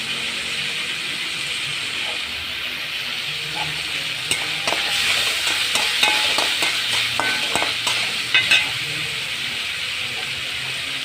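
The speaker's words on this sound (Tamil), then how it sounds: "இதில் நல்லா அப்படியே கிரேவி ஆகிற மாதிரி வதக்கிக்கோங்க" Tomato brinjal thokku is sautéed in a pan, with a constant sizzling hiss and, midway, a run of spoon scrapes and knocks against the pan that then fade back into the simmer.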